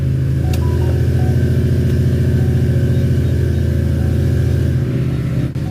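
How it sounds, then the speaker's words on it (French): A nearly 500-horsepower Ford Mustang engine running at a steady, loud idle up close, with a deep rhythmic rumble and a brief change near the end. "Allons démarrer la voiture parce que j'adore le bruit qu'elle fait"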